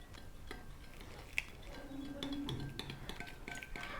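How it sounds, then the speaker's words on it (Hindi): Cream being stirred with fruit cocktail juice in a bowl: a spoon clinks and taps faintly against the dish in an uneven rhythm, with soft scraping between strikes. "इसमें हम शामिल करेंगे कॉकटेल का जूस। इसको हम मिक्स कर लेंगे।"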